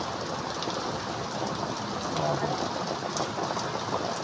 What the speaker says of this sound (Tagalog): Malakas din ang ulan.